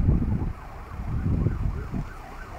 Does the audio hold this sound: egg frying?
no